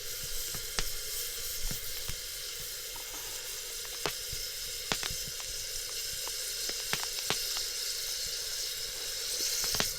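Mushrooms and instant noodles sizzle steadily in a pan at a night campsite. Soft, even frying hiss is dotted with faint pops and crackles, with no voices.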